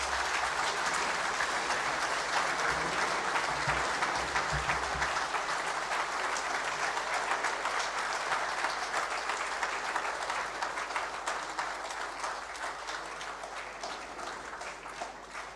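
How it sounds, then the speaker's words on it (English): An audience at an international trade seminar applauds the Governor of the Central Bank of Nigeria after his speech, a sustained, even clapping from a large hall that carries on for over fifteen seconds and slowly thins toward the end. "Please, let's continue a round of applause for the Governor of the Central Bank of Nigeria, Mr. Godwin Emefiele, CON."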